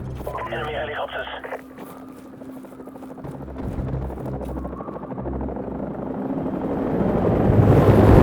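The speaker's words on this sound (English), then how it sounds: "Enemy helicopters." Enemy helicopters in the Call of Duty 4 Remastered video game thrum with steady rotor beats that swell louder toward the end, mixed with game noise and radio-style voices talking.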